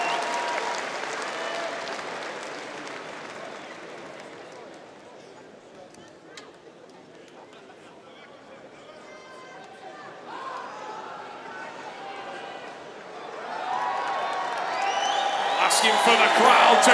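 A crowd at a deadlift contest, where a strongman is about to pull 400 kg, breaks into applause and scattered whoops that swell louder toward the end after a quieter stretch, with a commentator's voice running underneath.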